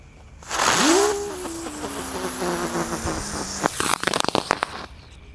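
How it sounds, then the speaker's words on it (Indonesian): A spinning lotus firework whistles up as it flies, with a rising then steady whine, ending in a burst of rapid crackling pops, loud and close. "Bisa terbang guys mercon teratainya, keren."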